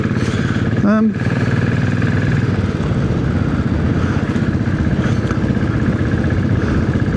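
Royal Enfield Classic 500 motorcycle being ridden on a test ride after a rear shock absorber preload adjustment, with a steady close engine drone and road noise under wind buffeting and a brief louder burst near the start.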